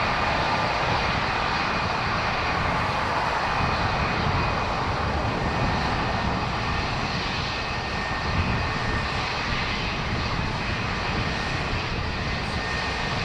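Aer Lingus Airbus A320neo jet at Dublin Airport, its engines giving a loud, steady roar with a faint high whine that holds unbroken for the whole stretch, with no talk over it.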